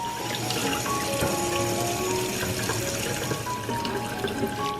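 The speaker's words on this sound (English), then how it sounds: "So I've rinsed all the pineapple weed" Pineapple weed flowers, also called wild chamomile, rinsed in water, with a steady splashing and trickling wash of running water that is close and continuous, alone with no talk.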